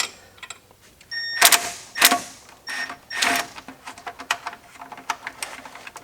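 A 10mm wrench turns a tight bolt on a Hummer H3 fog light, making several close, bright metallic ratcheting bursts and clicks in uneven succession, loudest early on, then fainter ticking.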